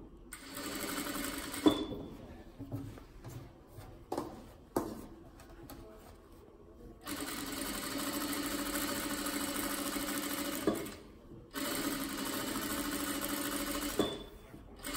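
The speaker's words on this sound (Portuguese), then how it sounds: "Vou colocar novamente a máquina no ponto de franzir, que é o último ponto lá, e vou fazer duas costuras paralelas" A domestic sewing machine runs parallel gathering stitches on a child's dress, whirring steadily in several long bursts broken by short pauses and small clicks, close and clear.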